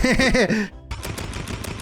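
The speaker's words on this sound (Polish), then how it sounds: "Takie ostrzegawcze strzałeczki." A burst of warning gunfire in the online shooter Roblox Rivals, several rapid shots in a quick run following a voice, loud and close.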